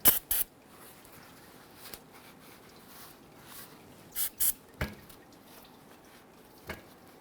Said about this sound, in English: go ahead and use some spray solvent and clean up the oil pan